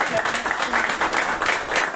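A church congregation at a revival weekend service applauds in steady, dense clapping with cheers, moderately near, and a voice speaks over it.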